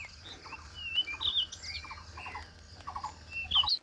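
Small birds chirp and tweet in a dense, foggy forest on a hike near Sarangkot, Nepal. The short, faint high calls repeat irregularly over a soft low background hum, and no one speaks.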